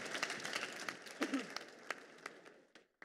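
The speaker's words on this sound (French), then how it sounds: "sous vos applaudissements chaleureux, mesdames et messieurs. Alain Bagnot." Applause greets the president of the SITL at the opening conference of SITL Europe 2018, a scattered, fairly quiet patter of clapping from the hall that thins out over a few seconds.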